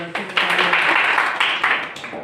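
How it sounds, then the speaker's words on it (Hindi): Students at a school quiz contest clapping for a contestant, a loud, close burst of scattered applause lasting a couple of seconds. Speech can be heard faintly underneath. "इसके लिए थोड़ा ताली होना चाहिए"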